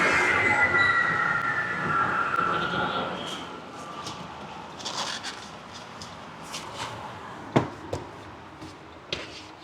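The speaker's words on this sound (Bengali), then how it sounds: "আর উপরে হচ্ছে এটা মেট্রো স্টেশন। মেট্রো স্টেশনকে মানে মেট্রোকে ওনারা এখানে বিটিএস বলে।" A Bangkok BTS metro train passes on an elevated track, a broad rumble with a high wheel squeal that fades over several seconds, followed by street noise and a few sharp clicks.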